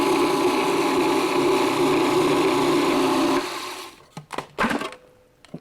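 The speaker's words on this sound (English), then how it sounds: "we're going to blend it again." A food processor blends cookie crumbs with melted butter into a cheesecake crust, roaring loudly and steadily for several seconds before cutting off, followed by a few scattered clunks and rattles.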